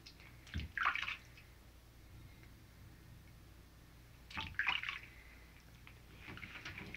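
A Silkie chicken getting a gentle bath, with two short splashy bursts of scooped water and dripping a few seconds apart, close but quiet over a still background.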